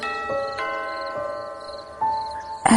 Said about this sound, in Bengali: পাশের বাড়িতে কেউ যেন কলিং বেল বাজালো।